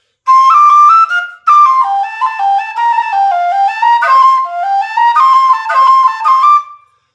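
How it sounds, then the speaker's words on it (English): A high, bright tin whistle plays a short melodic run of clear notes, pausing briefly before continuing, close and loud with no voices. "if I use this one in the second octave on my whistle, it sounds like this."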